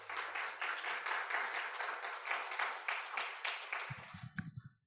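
A church congregation claps steadily after a song, with sustained, moderately distant applause that fades out, followed by a brief spoken voice at the end.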